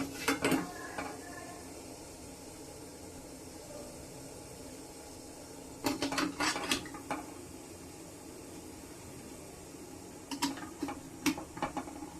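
Metal pots and utensils clink and clatter in a few brief bursts over a quiet, steady background hum as a pot is set over boiling water in an idli cooker to steam sabudana vadas.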